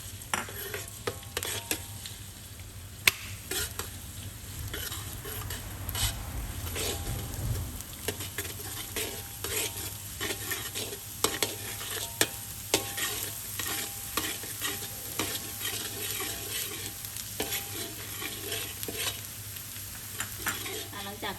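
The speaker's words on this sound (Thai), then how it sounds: "จากนั้นก็จะเจียวกระเทียมค่ะ เจียวกระเทียมให้หอมเลยค่ะ" Garlic fries in a small amount of oil in a pan, with a steady close sizzle and frequent scraping and clicking stirs throughout.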